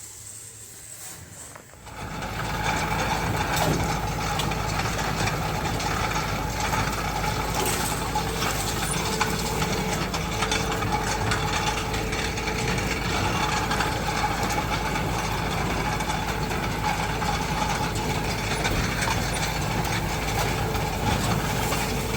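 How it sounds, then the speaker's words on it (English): A tractor-drawn seed planting machine with a compactor roller working a field, starting after a short quiet lead-in into a loud, continuous engine drone with rattling mechanical clatter. "So Arnie hitched a ride on this machine so we could see how it works."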